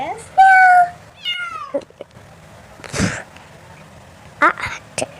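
A two-year-old boy imitates a cat, voicing a long rising-falling meow followed by shorter mews and a few breathy bursts, close and fairly loud.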